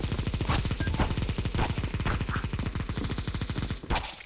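Rapid automatic gunfire in Counter-Strike 2, a steady, fast stream of close, loud shots running almost continuously for several seconds before a brief pause and a final short burst.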